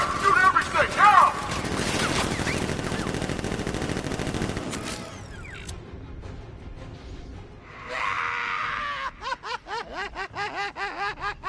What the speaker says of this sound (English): Gun! Open fire! Shoot everything! Now!